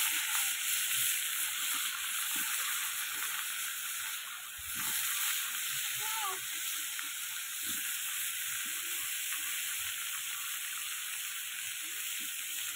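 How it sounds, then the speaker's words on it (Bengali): Small boiled new potatoes frying in a pan, a steady close sizzle throughout with occasional stirring clatter. "আলুগুলো লাল লাল করে একটু ভেজে নেবো।"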